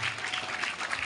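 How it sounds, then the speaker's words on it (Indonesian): Brief burst of applause from a school audience at a Maulid Nabi gathering, steady clapping filling the whole moment without a clear start or finish. "tepuk tangan buat Anissa"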